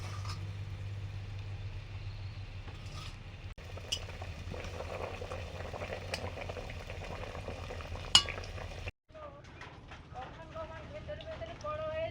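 Large pabda fish simmering in a mustard-poppy gravy with split green chillies, a soft steady bubbling and frying hiss with occasional stirring clinks, cut short near the end by a quieter outdoor stretch.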